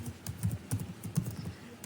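Keys clack in quick irregular bursts as a command is typed on a computer keyboard, close and moderately quiet, with no voice over the taps.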